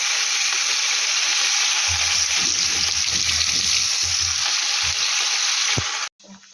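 Carrot and onion sizzling steadily in hot oil in a pan, with bursts of stirring and crackle that stay loud, then stop abruptly near the end.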